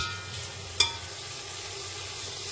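Onions frying and starting to brown in a pan with whole spices for Pakistani aloo gosht, a steady soft sizzle throughout, with one brief clink of a spoon near the start.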